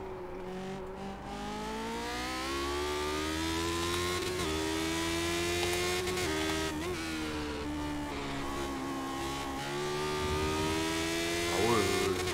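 A Lotus 79 racing car in the iRacing simulator holds a loud, steady engine drone at around 200 km/h. Its pitch climbs through the gears and dips briefly for corners. The whine continues without a break for the whole stretch.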